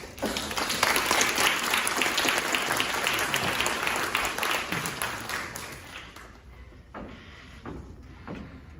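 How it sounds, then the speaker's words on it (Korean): A church congregation gives a warm welcoming applause for a visiting pastor at an anniversary and installation service, loud dense clapping that tapers off near the end to a few scattered claps. "우리 환영의 박수 해주시면 스페셜 메시지 해주시겠습니다."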